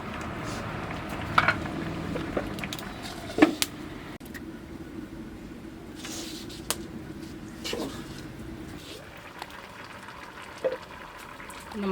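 Raw mango coconut curry simmers in a pot with soft, continuous bubbling, broken by a few sharp clinks of a utensil against the pot.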